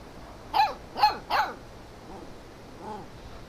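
A dog in Life is Strange 2 gives three quick, close barks in a row, then a couple of softer whimpering sounds after a pause.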